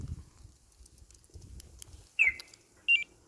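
A 24V Magicar two-way alarm fitted to an Isuzu Elf truck gives a short electronic lock chirp followed by a second brief beep, clear and close after low rumbling noise.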